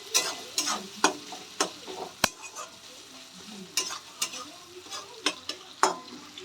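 Onions fry in a pan toward golden brown for a fish egg curry, a soft steady sizzle punctuated by sharp spatula scrapes and taps against the pan at an uneven rhythm.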